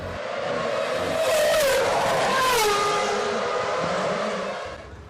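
A Midland F1 Racing Formula One car runs a lap of the bumpy Monaco street circuit in 2006, its loud, close, high-revving engine rising and falling through gear changes for several seconds.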